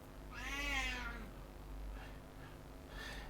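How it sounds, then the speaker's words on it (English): A house cat meows in the background of an indoor room: one long, drawn-out rising and falling meow near the start, followed by two fainter, shorter cries, heard at moderate distance with no talking. "this is my cat in the background."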